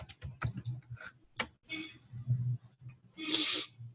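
Typing on a computer keyboard while setting up a Java download: a quick, uneven series of close clicky keystrokes with short pauses, building to a dense flurry near the end.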